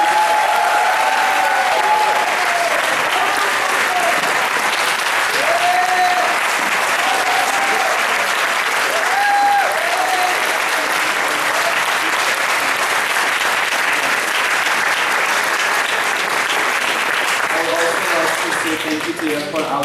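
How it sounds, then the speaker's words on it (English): Sustained audience applause fills the room at the close of an Eagle Scout Court of Honor ceremony, steady and dense for the full stretch, with faint voices and whoops mixed into the clapping. "Can I get another round of applause"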